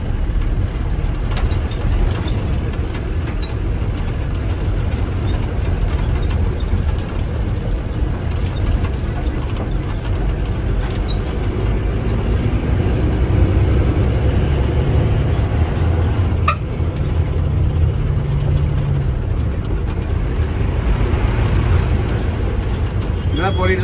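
A truck rolls along a road toward a river bridge on a trip near Udaipur, its engine a steady, continuous low rumble heard from the cab, with faint voices at times.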